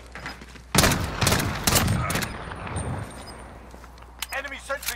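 Automated sentry gun opening fire in Modern Warfare multiplayer, a loud close burst of rapid shots followed by a trailing rattle of gunfire, with shouted voices layered over the battle.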